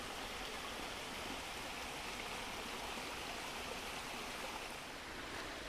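A river flows steadily past leaves and rocks, a constant broadband rush of water heard close and even throughout, with no voices.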